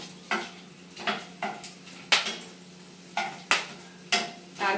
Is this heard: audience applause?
no